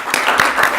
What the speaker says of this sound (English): I think Kim Garcia needs a round of applause for all the work she did.